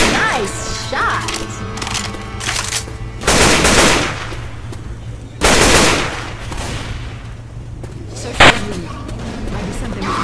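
Zombie-shooter gunfire in Left 4 Dead 2 inside a shopping mall: loud, sharp bursts of automatic fire and heavy shotgun blasts come in several clusters, mixed with impacts and characters shouting in game.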